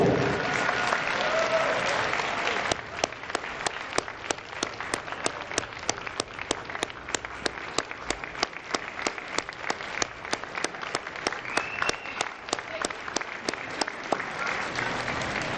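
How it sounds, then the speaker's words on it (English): Sustained audience applause at a Hall of Fame ceremony in Woodbridge, a dense wash of many hands clapping steadily throughout, loud and close with no talk over it. "How about a big round of applause for Vinny and Frank Capraro?"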